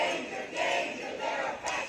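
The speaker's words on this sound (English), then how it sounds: "hundreds of protesters hit the streets in Washington, D.C., chanting slogans and holding signboards" Protesters on a Washington, D.C. street chant slogans in a rhythmic crowd, three loud surging phrases rising and falling in quick succession, moderately distant.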